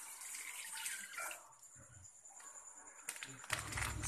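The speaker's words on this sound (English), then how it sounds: "Wet hands with water." Tap water splashes over hands being wetted for handwashing, a hissing stream that dips in the middle and then surges back louder with heavier splashing toward the end.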